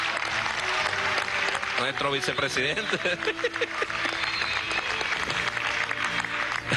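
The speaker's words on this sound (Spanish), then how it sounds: "aplaudan a Darío" At a PSUV primary election results reading, a crowd applauds steadily throughout, with a voice speaking over the clapping.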